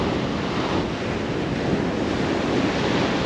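Strong wind buffeting the microphone on Skegness beach while sea fishing, a constant roaring rush blended with surf, loud and unbroken with no speech.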